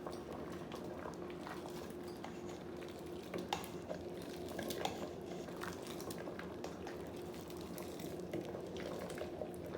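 Great northern beans with a smoked ham bone simmer in a covered pot, giving a steady low bubbling and faint sizzling murmur throughout, with occasional soft clicks and knocks, no talking.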